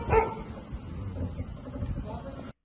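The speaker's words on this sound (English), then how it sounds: "Nearby, a dog began barking loudly at this figure" A dog on a street at night lets out a sharp, loud bark at the start, followed by softer, muffled noises and further faint yelps under the background hum.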